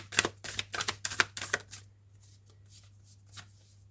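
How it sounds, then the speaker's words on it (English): Oracle cards being shuffled by hand, a run of quick crisp riffling bursts up close that stops about halfway, leaving near silence with one faint soft rustle. "Let's get some oracle cards out too."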